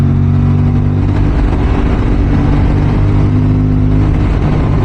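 A 500cc motorcycle ridden on a mountain road toward Hunder and Thang, India's last village near the border, makes a loud, continuous engine drone mixed with heavy wind rush right at the mic.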